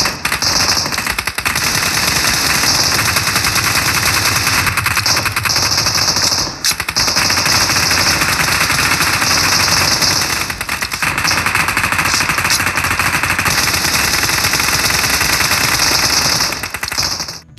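Rapid automatic gunfire from the mobile game PUBG Mobile, a dense continuous rattle of shots that is loud and sustained, with only a few brief gaps.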